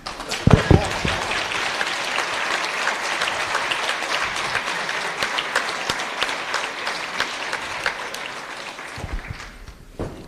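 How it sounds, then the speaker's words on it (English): A conference audience applauds loudly and steadily for about nine seconds, the dense clapping spread wide through the room before it tapers off at the end. "deserve a round of applause"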